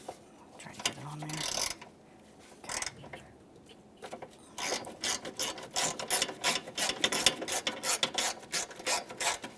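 A ratchet wrench works on the radiator fan mounting bolt of a 2014–2018 Toyota Corolla. After a few isolated scrapes, dense bursts of rapid mechanical clicking follow close up, with short pauses between strokes.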